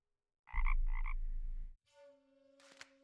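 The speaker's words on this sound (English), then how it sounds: "Is that a frog I hear?" A frog in the video game The Night of the Rabbit gives a loud, close, low rattling croak in two pulses, followed by a softer tonal chirp-like call.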